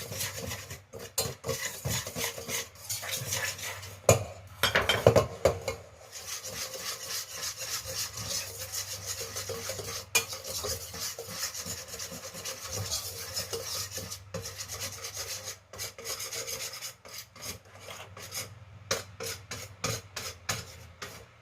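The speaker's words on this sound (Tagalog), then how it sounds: "Ihalo muna natin siya, halo-haloin muna natin." An egg is stirred and mixed in a bowl for a chocolate pistachio cake, giving close, rhythmic scraping and rubbing strokes that carry on for a long stretch without talk.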